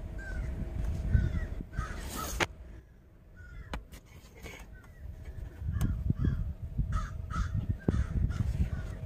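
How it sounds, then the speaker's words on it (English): Several crows caw repeatedly outdoors near an overhead wire, their calls overlapping at moderate distance over a low rumble of background noise and some brief sharp knocks. "Sure is a lot of crows calling today."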